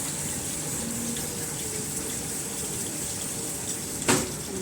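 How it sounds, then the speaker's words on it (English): Water runs steadily from a kitchen tap into a sink as a bowl is washed, a constant gushing hiss with a brief clatter near the end and no talk. "I'll put it into the sink and I will wash it"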